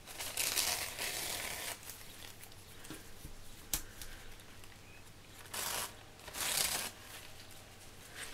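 Glued napkin paper being peeled and torn off a sheet of paper in small pieces, with bursts of crisp crinkling and ripping close up, separated by quieter stretches.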